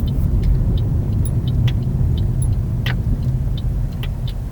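Car driving through city traffic in Honolulu, Oahu, Hawaii, heard from inside the vehicle as a steady low engine and road rumble, with faint brief ticks and clicks over it and no talking.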